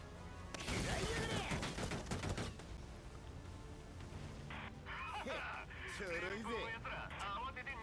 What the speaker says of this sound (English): Destroying a tank with a machine gun.